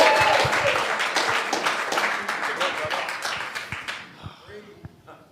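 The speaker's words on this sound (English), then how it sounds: "So everybody give him a big round of applause." An audience at a recovery meeting claps in a dense burst for the evening's guest speaker, loud and sustained before thinning out over the last second or so.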